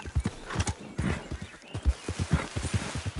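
A horse gallops in the video game Red Dead Redemption 2, its hoofbeats rapid, close and rhythmic, with a brief whinny mixed in.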